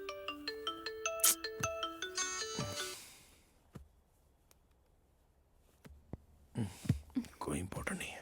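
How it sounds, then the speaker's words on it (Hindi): A melodic phone ringtone chimes loudly in a repeating pattern for a few seconds, then stops; faint clicks and quiet whispering follow before rustling noise and murmuring voices return. "किसका फोन आ रहा है"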